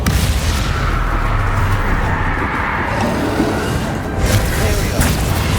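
Booming explosions and battle noise from Hogwarts Legacy during the Battle for Hogwarts, with a Bombarda blast spell amid a loud, dense spell fight; heavy low rumbles run throughout with a few sharper bursts.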